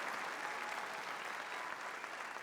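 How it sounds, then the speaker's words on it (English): A comedy-special audience gives a sustained round of applause, a thick, steady patter of clapping heard fairly faintly and without breaks. "If you have a good mother like mine, give her a round of applause"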